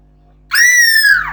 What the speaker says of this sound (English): she was screaming so loud